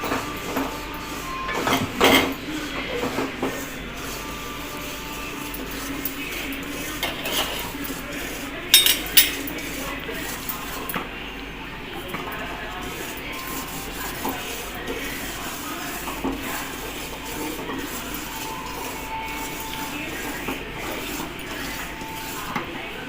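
Steamed and dried rice flour being dry-roasted in a pan for sweet pooranam kozhukattai, with steady scraping and stirring against the metal and occasional sharper clinks, close and moderately quiet, no talking.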